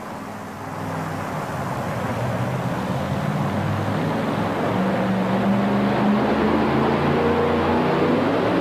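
A Chevrolet S10 two-wheel-drive pulling truck at an indoor truck pull in Philadelphia roars under sustained full throttle, a loud, steady engine drone that builds slightly in pitch and strength.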